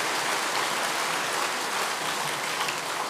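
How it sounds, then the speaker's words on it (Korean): Sustained applause from a church congregation at an evening summer camp service, a dense steady patter of many hands clapping for the full stretch without a break. "다시 한번 큰 박수로"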